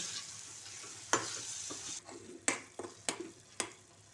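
Masala for a kingfish curry is stirred and fried in a pan, a quiet sizzle broken by several sharp scraping spatula strokes in quick succession, no talking.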